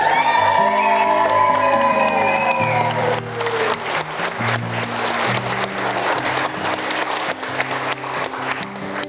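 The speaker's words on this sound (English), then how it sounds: "if we could all have an applause for Charlotte Amos" Wedding guests applauding after a speech, clapping spreading through the room over sustained background music with melodic lines at the start, the clapping growing denser and continuing steadily to the end.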